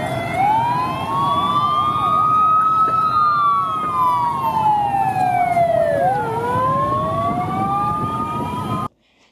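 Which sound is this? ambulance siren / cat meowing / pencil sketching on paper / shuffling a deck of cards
ambulance siren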